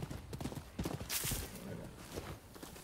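A horse's hooves clip-clop at a steady walking pace in the Rise of the Ronin video game, close and moderately loud over ambient game sound, with a brief burst of noise midway.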